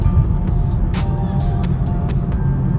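A tuned Camaro SS accelerates and shifts from first into second gear. The engine sounds loud and close with a dense, rumbling roar, and sharp crackles and pops cut through it.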